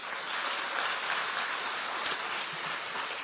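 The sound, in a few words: audience applause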